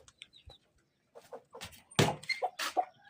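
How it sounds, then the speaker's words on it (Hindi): A hen on a rooftop near a new cage gives a few short, close clucks, with soft chicken sounds and quiet pauses between them. "उसके बाद नीचे एक मुर्गी है"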